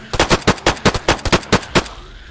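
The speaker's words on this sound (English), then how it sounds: "Oh, someone just shot me" A rapid burst of about a dozen loud, evenly spaced gunshots from a video game firefight, sharp and close, then a quick fade to quiet.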